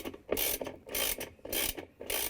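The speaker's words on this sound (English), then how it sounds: "using the 7/16" socket wrench, I'm going to tighten real good" A 7/16-inch socket wrench ratcheting to tighten the washplate bolt on a GE washer, four quick, rasping clicking strokes in a steady back-and-forth rhythm, close up with short pauses between pulls.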